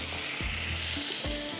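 Ground whole cumin and black pepper sizzle in a pan of frying mutton, a steady close crackling hiss with a few stirring scrapes and no voices.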